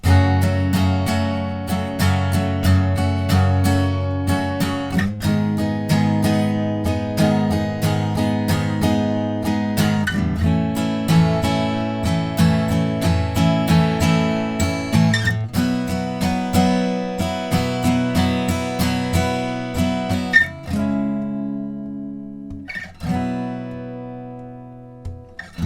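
An acoustic guitar strums the bridge chords of a song without a capo, sustained ringing chords moving in a steady rhythm, played alone and close, ending with a few sparse plucked notes.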